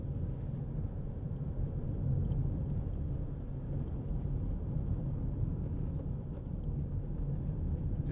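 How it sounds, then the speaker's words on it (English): Steady low tyre rumble from a 2008 Nissan X-Trail 2.0 dCi 4WD on a fairly rough road, heard from inside the cabin as a continuous, fairly quiet road roar with no talk. "Just bit of tyre noise, This is a fairly rough road, so it does bring it out a little bit more"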